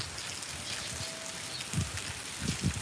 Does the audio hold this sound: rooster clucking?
no